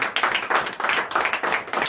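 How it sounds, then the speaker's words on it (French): A church congregation claps during morning prayer in Benin, with quick, loud rhythmic handclaps in brisk pulses. "Donnez l'acclamation à Jésus."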